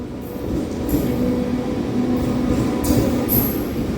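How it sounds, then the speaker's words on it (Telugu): A Vijayawada–Narsapuram MEMU train rumbles steadily into platform 1 at Ramavarappadu station, a low continuous roar of wheels and cars with faint higher squeals at times, no talking. "1వ నెంబర్ ప్లాట్ఫామ్లో ట్రైన్ వస్తుంది"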